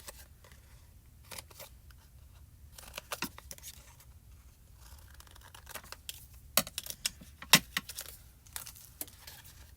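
A paper die cutting machine cuts heart shapes, giving sparse sharp clicks and crinkling snaps over a quiet background, with denser ticks toward the end.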